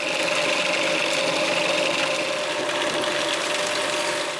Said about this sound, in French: On va mixer tout ça.